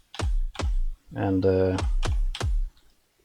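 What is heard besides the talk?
typing keys on a computer keyboard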